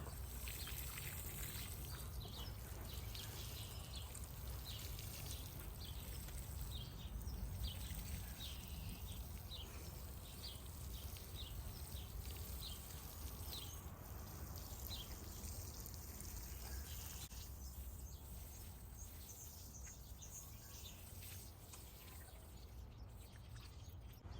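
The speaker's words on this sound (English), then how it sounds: "As usual, I am going to water them in with Neptune's Harvest." Sweet potato plants in a garden bed are watered in with Neptune's Harvest fertilizer, a steady pouring and trickling of water running continuously, with birds calling in the background and no talk.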